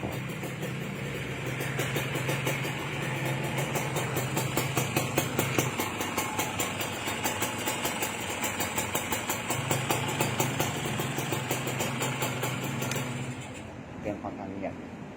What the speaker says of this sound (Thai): ฟังเสียงเครื่อง